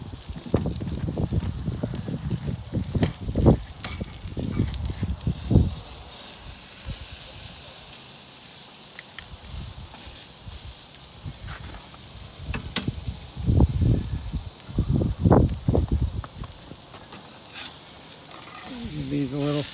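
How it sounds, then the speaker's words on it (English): Flatiron steak sizzles and hisses on a PK360 charcoal grill, a steady close frying crackle with occasional clanks and handling noises and brief speech in places. "All right, it's time to flip that steak."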